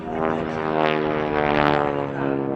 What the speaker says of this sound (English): very distinct sound of the Harvard. A Pratt & Whitney engine.